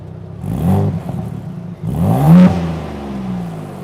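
A Ford Bronco Raptor's engine running in quiet mode, a muffled mid-pitched hum that swells twice into brief, restrained revs before settling back to a steady idle.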